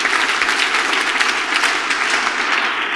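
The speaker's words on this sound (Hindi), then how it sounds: "एक बार मेरे दोस्त ग्रेट अपलाइन के लिए तालियां चाहिए।" Audience clapping at a motivational speech event, a steady, loud burst of applause from a crowd with no voices over it.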